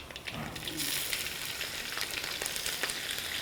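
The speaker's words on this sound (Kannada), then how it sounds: "ಎಣ್ಣೆ ಕಾದಿದೆ, ಒಂದು 2 ಸ್ಪೂನಷ್ಟು ಸಾಸಿವೆ ಹಾಕೊತಾ ಇದ್ದೀನಿ" About two spoons of mustard seeds hit hot oil for khara bath in a South Indian kitchen, giving a loud, continuous crackling sizzle close by with small pops throughout.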